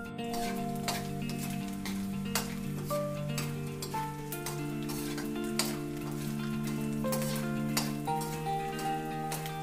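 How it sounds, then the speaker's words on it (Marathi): Edible gum (dink) frying in hot oil for ladoo gives a steady, crackling sizzle with scattered small pops and ticks, close and constant, with no talking. "सगळा डिंक तळून घ्यायचा आहे।"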